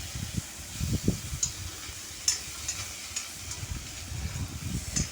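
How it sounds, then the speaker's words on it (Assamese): Chopped tomatoes fry in hot oil in a home kitchen, a soft continuous sizzle with intermittent muffled stirring scrapes and occasional light clinks, fairly faint and with no talking. "বিলাহীখিনি অকণমান গলি যোৱালৈকে মই ভাজিছোঁ"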